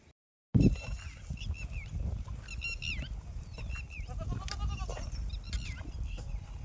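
A herd of farm goats drinking at a water tank lets out repeated bleats, some close and some farther off, overlapping against a steady outdoor rumble.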